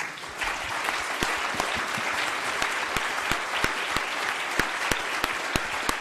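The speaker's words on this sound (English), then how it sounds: "you all need to offer him a round of applause" A live audience at a political discussion event applauds steadily for several seconds, dense clapping from many hands with a few sharper close claps standing out, no talk over it.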